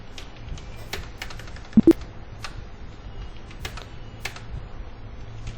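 Light typing on a computer keyboard while entering short alias codes into Tally Prime, with scattered soft keystrokes and a couple of sharper clicks over a low room hum.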